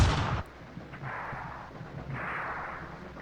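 Artillery fire in the WW2 Stalingrad tactical video game: a loud low boom opens, then decays into a distant rumbling battle ambience with muffled thuds, no talk.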